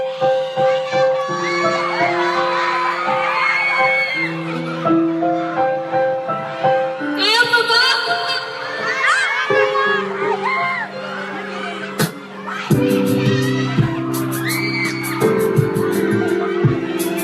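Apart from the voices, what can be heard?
crowd cheering and shouting at a live performance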